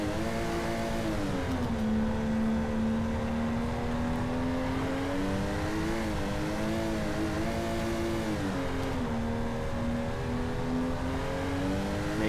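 A drift car in a parking lot holding fifth gear, its engine droning steadily with the pitch rising and falling in slow waves as the throttle shifts, continuous and fairly near.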